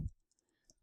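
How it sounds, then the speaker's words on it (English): Quick, faint clicks of typing on a computer keyboard, a few light keystrokes after a brief thump, in a quiet room. "So let's type in"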